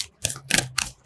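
Tarot cards being shuffled: three quick riffling bursts of crisp papery flutter, close and fairly soft, with short pauses between them.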